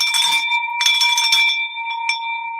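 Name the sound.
bell rung to celebrate a closed deal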